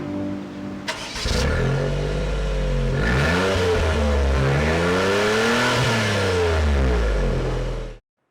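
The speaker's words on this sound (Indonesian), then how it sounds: "yang keluar juga suara khas 3 silinder, namun tidak sesumbang 3 silinder biasa" A 2015 Daihatsu Copen's three-cylinder engine starts and revs through its tuned exhaust, rising and falling in several loud, close throttle blips before cutting off abruptly.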